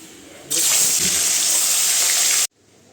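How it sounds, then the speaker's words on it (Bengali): Tap water gushes strongly from a household faucet for about two seconds, loud and steady, then cuts off abruptly into a quiet room. "এইদিকে কলে জল চলে এসছে, জল পড়ছে"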